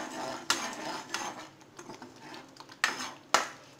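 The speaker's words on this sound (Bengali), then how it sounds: "দিয়ে আমি নেড়ে নেব।" A metal spoon stirs peas dal with chopped coriander and garam masala in a pan, giving sharp clinks against the pan at irregular moments among softer scraping and rustling.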